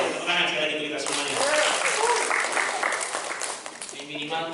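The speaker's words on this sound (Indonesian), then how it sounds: "Tepuk tangan sekali lagi untuk kita semuanya." An audience at an Indonesian staff capacity-building and motivation session claps steadily, a dense, loud wash of applause that runs throughout with slight swells and dips.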